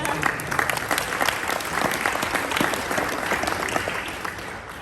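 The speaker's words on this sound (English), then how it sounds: "Give Charlotte a round of applause" Chamber of commerce gala crowd giving a round of applause, close and lively clapping from many hands that stays strong and then eases slightly toward the end.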